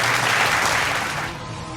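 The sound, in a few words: audience applause at school annual day prize giving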